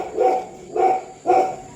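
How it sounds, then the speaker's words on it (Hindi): A pet dog barks indoors at home, three distinct loud barks evenly spaced about half a second apart, close to the microphone, with no talking in between. "तुम क्या भौंक रहा"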